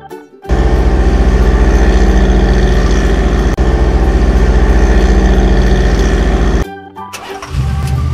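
A toy truck gives off a loud, steady engine rumble that holds for about six seconds, then cuts off abruptly before a quieter low hum returns.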